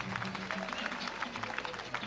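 Faint, thin applause comes from a school event audience in Gatundu as a girls' school group is welcomed onto the stage, sparse scattered claps heard at a distance.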